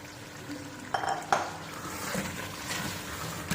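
White lobia beans tipped into a metal cooking pot, giving a couple of sharp clattering impacts near the start followed by faint rattling and stirring against the pot, up close with no talking.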